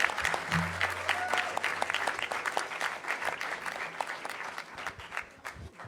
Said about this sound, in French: on peut applaudir la technique